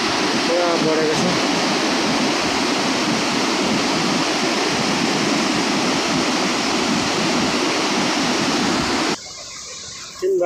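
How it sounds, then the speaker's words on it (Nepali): Swollen river in flood, its water rushing loudly and steadily as a dense, close roar that fills the scene, dropping away abruptly near the end. "खोलाको पानी पुरा बढेको छ।"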